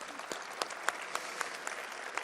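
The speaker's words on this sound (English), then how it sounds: "Pause for applause." Steady audience applause at a memorial celebration of life for LSU coach Skip Bertman, a dense wash of many hands with a few sharper claps standing out, continuing at even loudness throughout.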